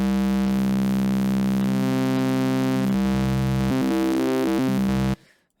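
Arturia Pigments synth tone run through its wavefolder set to a sine wave shape: a loud, rich sustained buzzy drone with shifting timbre and a few rhythmic stutters, cutting off abruptly near the end.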